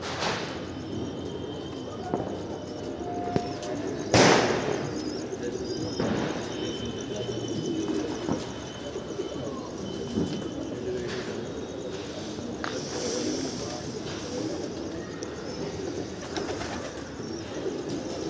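Trained show pigeons flocking at dusk make continuous low cooing and occasional chirps over a steady outdoor background, with a sharp brief knock or clap near the start and faint voices now and then.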